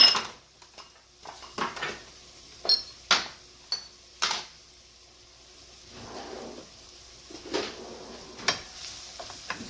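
A utensil stirs food in a cooking pan for stuffed pork chops, making close, irregular scrapes and metallic clinks over a faint sizzle.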